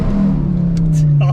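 An ex-police Volvo T5 engine holds a loud, steady drone during a clutch-kick wheel-spin attempt, close and heavy with a low tone that sags slightly, while voices talk over it.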